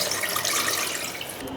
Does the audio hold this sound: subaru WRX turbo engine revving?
no